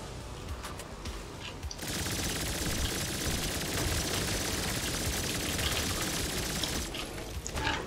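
Sustained rapid gunfire from a gun in the video game Turbo Overkill, a dense, loud, unbroken burst lasting several seconds that starts abruptly and cuts off near the end, with no talking.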